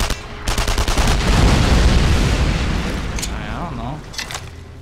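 Gunfire and explosions from the World War II shooter game Enemy Front: a loud dense burst of rapid shots and booming blasts, dense for about three seconds then trailing off into rumbling aftermath with a few sharp cracks.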